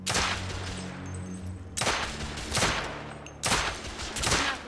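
Pistol shots in the video game The Order 1886, three loud sharp cracks spaced about two seconds apart, each followed by a ringing, decaying tail over a continuous ambient background.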